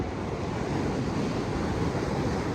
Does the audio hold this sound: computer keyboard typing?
no